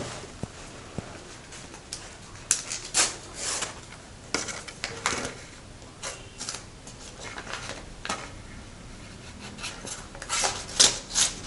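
An envelope holding a government job posting order is torn and opened, giving close, scratchy paper rasps and crinkles in irregular bursts, with a few sharper rips along the way.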